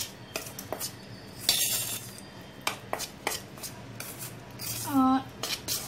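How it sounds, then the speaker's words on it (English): Metal spoon scraping and clinking against a bowl while mixing dry ingredients, with irregular taps, a few sharp scrapes and one ringing clink, close and fairly quiet. "So now I will take a spoon to mix this. Mix this all dry ingredients first."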